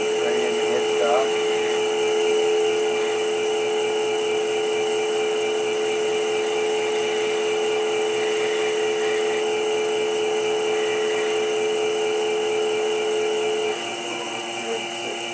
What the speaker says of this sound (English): Now I think I'm going to go back to a scraper